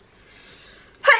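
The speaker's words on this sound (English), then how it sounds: "I'm gonna sneeze." A single short, sharp sneeze bursts out at the end after a brief quiet breath, close to the microphone.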